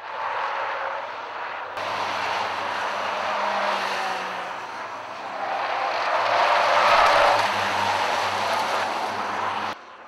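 VW Fun Cup race cars roar around the Mettet circuit, engines rising and falling as they pass, with a broad continuous rush that swells toward the end and cuts off sharply.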